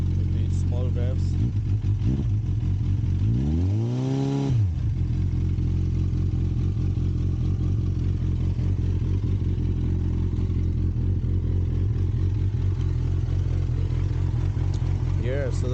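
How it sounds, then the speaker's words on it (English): An engine on a cold start runs loud and close with a steady throbbing idle, punctuated by a few small revs that briefly raise its pitch near the start and end. "But that's what the cold start sounds like."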